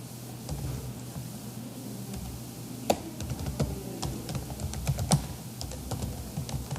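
A URL is typed on a computer keyboard, a steady run of light close key clicks with a few sharper louder taps, alone without voices.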